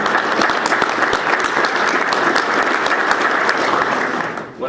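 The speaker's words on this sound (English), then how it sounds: "Do I hear a hand of applause on that?" Steady, loud applause from an audience at a county judge's speech, dense clapping sustained throughout before tapering off at the very end.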